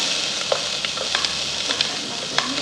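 Ginger, garlic and chili sizzle and fry in a couple of spoons of hot oil in a pan, a steady close crackle with a few brief sharper pops and light stirring, no voices.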